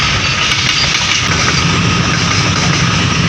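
A steady, loud rumble of a goods train running along broad-gauge tracks near a railway tunnel at Chandranathpur, Silchar, with a continuous low drone and no voices.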